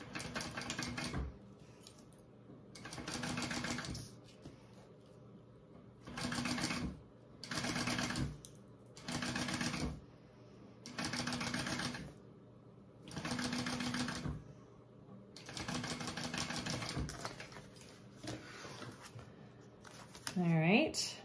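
A sewing machine bastes zipper tape onto a front panel, running in several short, fairly close bursts separated by brief pauses.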